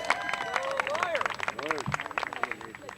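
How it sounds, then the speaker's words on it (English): Alumni crowd at a 2013 school groundbreaking ceremony for John Marshall cheering and clapping, a busy patter of hands under voices and whoops, with a speaker's voice cutting through near the front. "Make some noise, cheer, show yourself."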